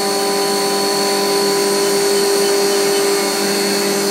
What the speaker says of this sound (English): Cutting the chamfer on there.